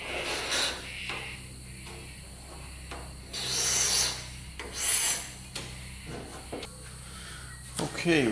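A metal scribe drawn across a bonnet scoop for a Toyota Landcruiser 200 Series, making close, repeated rasping scratches in several strokes of varying length.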